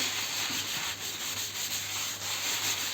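Steady, continuous rubbing and scrubbing of a burnt pot with a plastic bag and cleaning mixture, a dry abrasive swishing that goes on without pause under faint background hiss.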